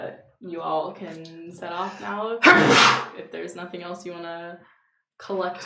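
A single sharp, forceful sneeze bursts out mid-conversation at a tabletop role-playing game session, loud and close, with people talking before and after it.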